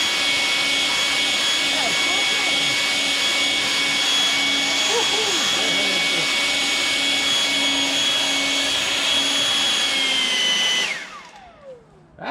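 A PATOOLIO 20V electric leaf blower roars loudly and steadily in turbo mode with a high whine, then winds down and falls silent near the end, a voice briefly audible under it.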